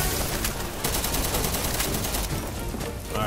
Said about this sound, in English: You gotta be careful with those shots